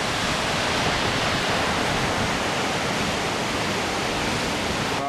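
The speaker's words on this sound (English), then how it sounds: "this is probably one of the smaller waterfalls that I think you might find here in Yellowstone" A small waterfall and river in Yellowstone National Park give a loud, continuous roar of rushing water, dense and unbroken throughout, close by with no voices.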